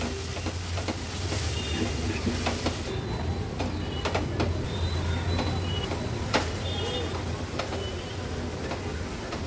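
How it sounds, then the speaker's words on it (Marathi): Malvani masala paste (vatan) sautéing in oil in a pan over a medium flame for a pomfret curry, giving a steady, continuous sizzle and hiss with no talking. "वाटण तेलामध्ये छान परतून घ्यायचे।"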